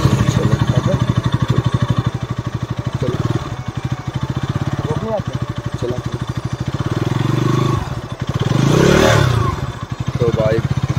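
A motorcycle engine fires up and idles with a steady thumping beat, then revs harder around the middle before settling back, loud and close while people talk over it.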